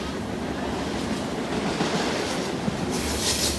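A long BNSF double-stack intermodal freight train of 155 cars rolls past at Carkeek Park, a steady broad rumble and rattle of wheels and cars, fairly close and continuous, with no voices.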